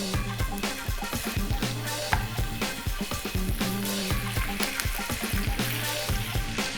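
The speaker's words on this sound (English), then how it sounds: "Sizzle, sizzle, sizzle." Chicken thighs sizzle skin side down in a cast iron pan over medium-high heat, giving a close, continuous crackling hiss with fitful pops throughout.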